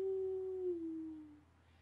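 A single long, steady wolf-like howl imitated by a human voice, held as one clear tone that slowly slides lower before fading out, heard alone and close.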